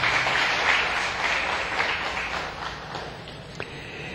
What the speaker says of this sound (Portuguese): Vamos dar uma salva de palmas para Morgana?